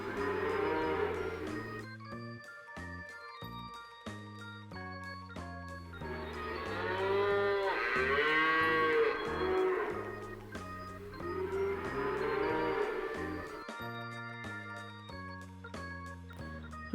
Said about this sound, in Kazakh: Сиыр, сиыр.